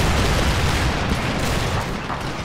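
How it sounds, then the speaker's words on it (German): Dense, continuous gunfire volleys from units in a strategy game battle, a loud, unbroken crackling roar of overlapping shots with no distinct pauses. "Wir sehen, viele Schüsse gehen hier so ein bisschen in den Berg hinein."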